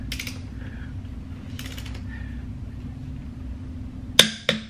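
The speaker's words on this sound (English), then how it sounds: "Okay, we've got the torque wrench to set to 118 foot-pounds." A torque wrench tightens lug bolts on a Porsche 911 S fitted with wheel spacers, giving two sharp close clicks near the end after faint ratcheting sounds over a low steady hum, with no talk.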